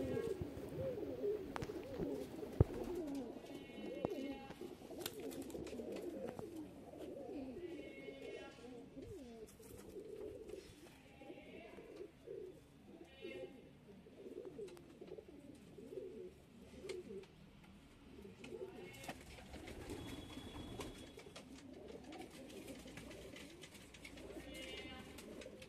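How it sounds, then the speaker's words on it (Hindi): A flock of Shahjahanpuri blue pigeons coos continuously at close range, soft throaty calls overlapping in a busy loft-like space, with occasional wing flutters. "लाजवाब दोस्तों ये कबूतर हैं"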